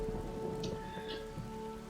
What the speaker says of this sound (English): looks like darkness is gonna be overridden by freezing rain from Isengard